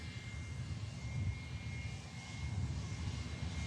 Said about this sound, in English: Still got the engines on,